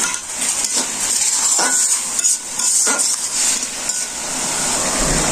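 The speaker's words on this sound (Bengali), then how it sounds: "এবার হালকা একটু জল দিয়ে দেবো।" A splash of water goes into a hot pot of spiced masala in a village kitchen, loud sizzling mixed with repeated scraping and clanking of a spoon against the metal pot.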